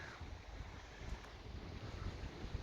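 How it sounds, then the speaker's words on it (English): Wind gusting along a seaside promenade at Corralejo, a low, continuous rumbling buffet on the microphone, steady throughout with no voices. "Oh, the wind's got up now."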